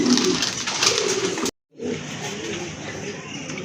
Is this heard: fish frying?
no